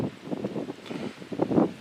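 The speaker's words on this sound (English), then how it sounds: "it's quite windy out here today, so bear with the wind" Gusty wind buffets the microphone at an outdoor shooting range, a steady low rumble and rustle that swells louder near the end, with no voices.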